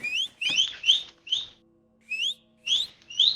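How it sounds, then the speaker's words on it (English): A person whistles a series of short, high, rising chirps in uneven bursts with brief pauses between, fairly loud and close, with a faint low hum beneath. "Yeah, keep whistling."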